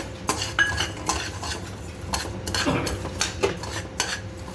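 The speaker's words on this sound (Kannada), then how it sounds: "ಇದು ಧನಿಯಾ ಹುರಿತಾ ಇರೋದು, ಅದಕ್ಕೆ ಇದು ಸೋಂಪಿನ ಕಾಳು ಹಾಕ್ಕೊಂಡಿನಿ." Coriander and fennel seeds roast in a pan for Gujarati dabeli masala, with a spatula scraping and stirring in irregular metallic clinks over a faint sizzle, close and alone.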